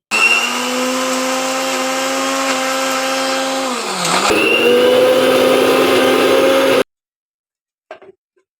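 A mixer grinder crushes Oreo biscuits into powder with a loud, close, continuous motor whine that dips in pitch midway as the load shifts, then rises again before stopping abruptly, followed by a few faint clicks.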